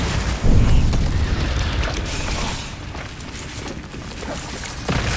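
Bombarda spell explosion in the Hogwarts Legacy video game, a loud booming blast with rumbling low-end debris and creaking mechanical rattles, followed by a second swell near the end, no voices.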